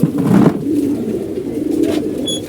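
A female pigeon, hand-raised in a home loft in Mirpur, coos up close in low, throaty, rolling notes, a soft burbling call that swells and repeats with no talking over it.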